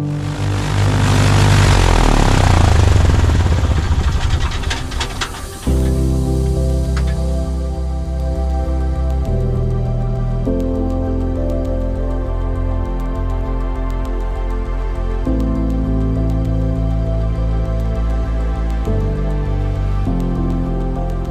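A small propeller plane departs along a runway with wind turbines in its path. Its engine roars loudly at first, then settles into a steady, close droning hum that lasts throughout, with no voices.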